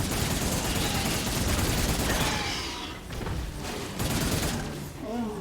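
Rapid gunfire bursts from a sci-fi shooter game, Cygnus Enterprises, dense and continuous at first, then thinning into scattered shots and clatter, with a few brief voice sounds near the end.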